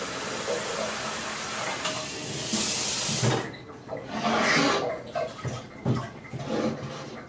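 Water cycles through a coffee brewer with steady close splashing and hissing. Partway through, the flow breaks into intermittent gurgles and pours, with no voices.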